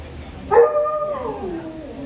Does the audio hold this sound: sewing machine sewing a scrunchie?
no